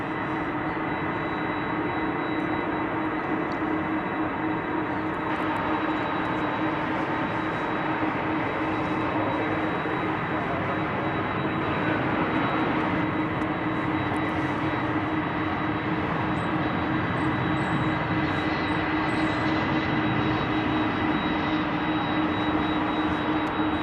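An American Airlines jet arriving from Minneapolis-St. Paul rolls along at DFW airport after landing, its engine roar loud and steady throughout, with a faint whine layered over the rumble.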